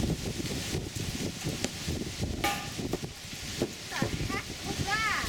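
Gusty wind roars and buffets the microphone ahead of a storm in St. Louis, with leaves rustling throughout and voices talking over it.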